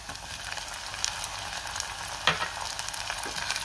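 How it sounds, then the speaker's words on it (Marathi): Tomato sautés in hot oil in a pan, giving a continuous crackling sizzle with a few louder spits and stirring scrapes, close up and without speech. "टोमॅटोसुद्धा मी एक मिनिटभर चांगला परतून घेणार आहे"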